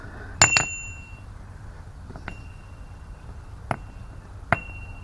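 Five sharp metallic pings from an empty metal gas bottle struck like a small bell, two close together, then three spaced apart, each with a clear lingering tone over faint background hiss.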